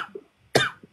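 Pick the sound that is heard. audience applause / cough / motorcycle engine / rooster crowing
cough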